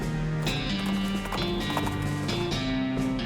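Horse hooves clip-clop in a rhythmic run in the Western comedy game West of Loathing, set against steady background game music at moderate volume, with no speech over it.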